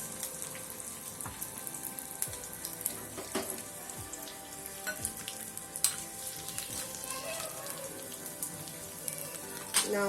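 Curry leaves crackle and sizzle in hot oil with mustard seeds and chopped green chilies for a raita tempering, making a continuous close spitting and popping with scattered sharp pops throughout.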